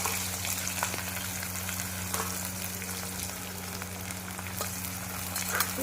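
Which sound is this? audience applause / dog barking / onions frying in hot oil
onions frying in hot oil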